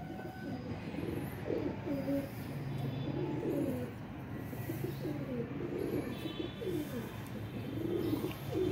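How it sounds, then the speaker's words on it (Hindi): Pigeons on a rooftop coo softly in repeated low phrases, steady and close, over a constant background hum. "ये देखें जी, ये कबूतर है।"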